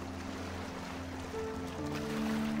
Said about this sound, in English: The beautiful sound of the water going out and coming in.